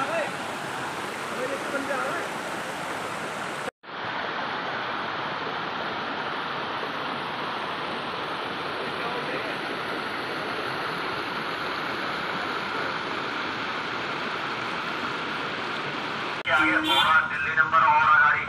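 A natural mountain waterfall near Rishikesh rushes in a steady, loud roar, briefly cut off early on, with a voice rising over the water near the end.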